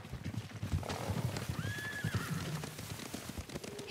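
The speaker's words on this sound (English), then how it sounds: "Horses, they're coming for us." Horses in the video game Ghost of Tsushima Director's Cut give a distinct whinny while galloping hooves drum steadily underneath, a busy, moderately close scene with no talking.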